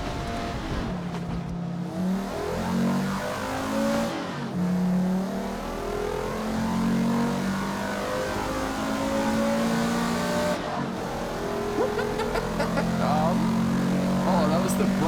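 A race car in Forza Motorsport whines and revs in low gear, its engine tone rising and falling in repeated steady sweeps at close range, with brief cuts in sound between passes.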